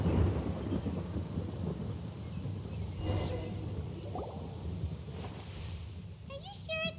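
Steady rain pours with low rumbling thunder throughout in a forest in the video game Genshin Impact, while a few faint voices speak briefly over it.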